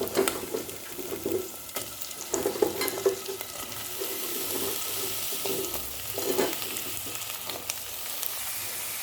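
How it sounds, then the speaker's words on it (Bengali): Onions frying in a pan for a vegetable curry, a constant sizzling hiss broken by repeated stirring scrapes, close and moderately loud with no talking. "যখন এই পেঁয়াজটা এরকম ভাজা হয়ে যাবে"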